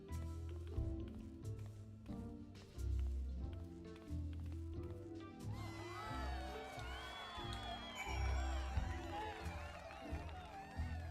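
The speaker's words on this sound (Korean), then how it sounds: "환호까지 하고 난리야." A crowd cheers and whoops for a stage dance in Final Fantasy XIV. It begins over rhythmic game music and swells midway into a busy chorus of rising and falling voices.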